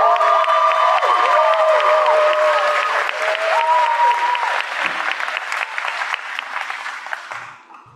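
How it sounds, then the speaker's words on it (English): A school audience at a Thanksgiving program breaks into sustained applause, loud and dense at first with some cheering and whoops, then thinning and fading out toward the end. "Let's give her a round of applause."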